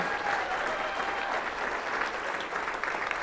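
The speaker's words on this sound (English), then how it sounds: "Y'all give him a huge round of applause." A crowd at a political event with Ken Paxton, Mitch Little and Shelley Luther applauds for Andy Hopper, a dense, steady wash of many hands clapping at full volume for the whole stretch, with faint voices mixed in.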